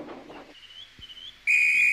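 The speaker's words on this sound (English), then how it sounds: "Oh, that's my guard's whistle." A guard's whistle blows at a railway station in a Trainz simulation game. It gives a short shrill blast that rises suddenly and holds steady and loud at the end, after a faint thinner whistle tone and quiet noise.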